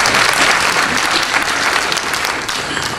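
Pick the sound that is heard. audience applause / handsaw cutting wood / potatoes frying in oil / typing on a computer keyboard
audience applause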